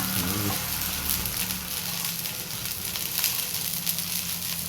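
Sardines sautéing in a pan with papaya, a steady close sizzle and crackle running throughout, with brief stirring and faint background voices.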